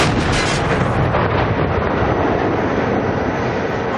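A tank's main gun fires a HEAT round in one huge, booming blast that rolls into a long, loud rumbling decay.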